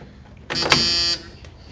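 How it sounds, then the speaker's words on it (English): A car key-in-ignition warning buzzer in a rusty vehicle with a rebuilt 360 engine sounds once, a loud, steady electronic buzz lasting under a second, followed by a faint click and quiet. "The buzzer works and there's no doors to shut the buzzer off"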